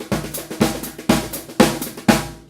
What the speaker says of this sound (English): if you play a regular paradiddle with a train beat, it'll sound like this